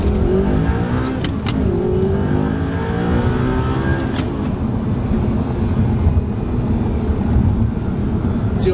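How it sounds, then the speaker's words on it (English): A deep V8 engine in an Audi R8 roars steadily under hard acceleration, its throaty exhaust rumbling continuously and loudly with no gear changes. "you'll be able to really sort of hear the V8 sound"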